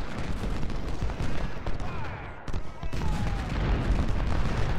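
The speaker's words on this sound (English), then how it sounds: "There's artillery out there somewhere." Artillery and massed gunfire rumble through a Civil War battle in the strategy game Ultimate General: Civil War, with distant booms and crackling volleys rolling steadily under a dense, continuous battle din.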